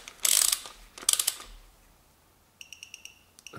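A torque wrench ratchets in two quick bursts while tightening camshaft bolts on a Toyota Camry 2.4 VVT-i engine, followed by a softer series of light metallic clicks.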